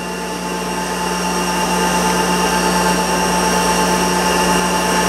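A Monarch 10EE lathe running steadily at 2,000 rpm with its feed rod spinning, giving a loud, continuous machine whine with strong steady tones and a low hum, near and unbroken, with no voices.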